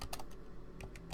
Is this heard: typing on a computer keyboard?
yes